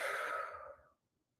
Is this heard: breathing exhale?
yes